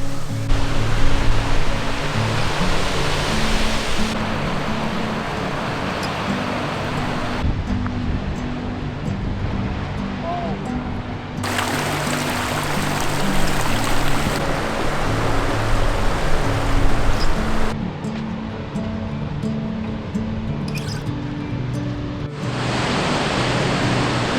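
A waterfall shooting out of rocks roars continuously nearby, a dense broadband gush that shifts slightly in tone but never lets up.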